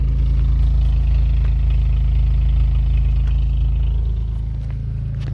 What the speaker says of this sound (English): See if we can get a little clip of the exhaust here.